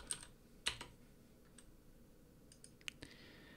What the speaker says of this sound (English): you're going to type in the domain name discountjuiceshop.com.